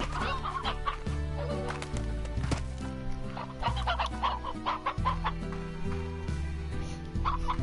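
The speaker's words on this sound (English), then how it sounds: "No, it's an old rooster." An old rooster in the Slime Rancher video game clucks repeatedly in short bursts over a steady layered musical background, moderately loud with no talking.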